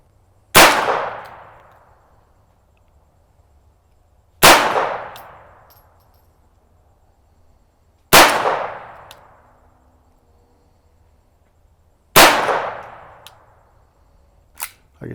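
A .22 semi-automatic pistol fires four sharp, loud single shots at a shooting range, each crack spaced about four seconds apart and ringing out with a short decaying tail, with no talking.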